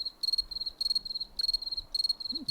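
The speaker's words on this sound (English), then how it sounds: "As we sat in the moonlight listening to the crickets" Crickets chirping at night in a steady rhythm of pulsed trills, four or five bursts close together, fairly faint over quiet background.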